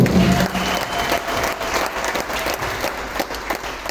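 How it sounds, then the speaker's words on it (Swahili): A church congregation claps together during a service, a dense, steady wash of applause lasting the whole stretch at an even, fairly loud level with no voices standing out. "Piga makofi mazuri."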